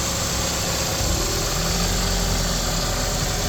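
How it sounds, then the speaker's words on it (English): A 2005 Toyota Corolla XRS engine idles at a steady, even rumble, noisy and constant, with no voices over it. "Engine sounds good."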